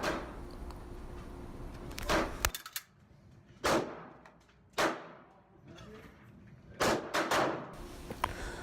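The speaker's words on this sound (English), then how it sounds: "Eject the magazine, cycle the action, insert the magazine, and continue on firing." Pistol stoppage drill: a sharp metallic clack of the magazine dropping free, the slide racked back with a snap, a fresh magazine seated, then a few loud close gunshots in quick succession, separated by short quiet gaps.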